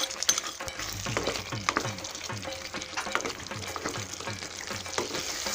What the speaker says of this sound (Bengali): এবার আমি ভালো মতো এটাকে একটু কষিয়ে নিয়ে আরও 10 মিনিটের মতো চাপা দিয়ে দেবো